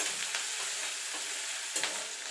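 Black mustard seeds and crushed ginger fry in hot oil for a Bengali dal, giving a soft, steady sizzle with light crackles and a couple of stirring scrapes, close and fairly quiet, with no talk.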